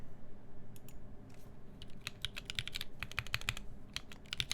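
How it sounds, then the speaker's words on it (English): Typing on a Keycult No. 1/65 Rev. 1 mechanical keyboard fitted with Tifa switches, a burst of sharp, close key clicks in quick irregular clusters over a low room hum. "Tifa switches for faster typing."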